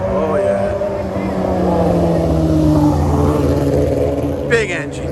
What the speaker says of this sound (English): Here comes a big engine. I can hear it from here.